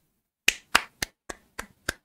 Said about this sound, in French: Ben moi j'applaudis.